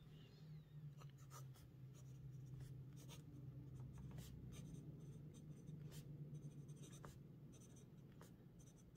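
A Platinum Meteor fountain pen with a Preppy nib scratches across paper in close, soft strokes and light taps, writing continuously with a faint steady background hum.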